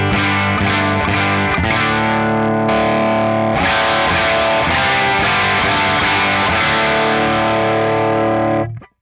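Distorted electric guitar played through a Line 6 Pod Express modeler with the master volume fully up, ringing chords with chorus-like shimmer, loud and sustained for about nine seconds before cutting off.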